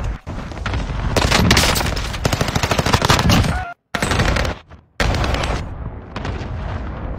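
Gunfire in Call of Duty: Warzone: loud, sustained automatic bursts with sharp shots, cutting off briefly twice before resuming, dense and close, with no speech.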